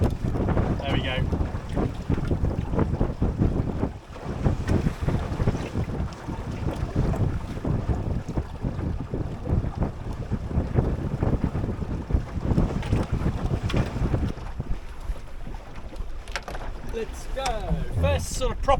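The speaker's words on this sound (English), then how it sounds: "It's getting gusty now." Gusty wind roars over a Drascombe Lugger sailboat underway, buffeting the microphone with continuous rumble and water wash while a person speaks now and then beneath the noise.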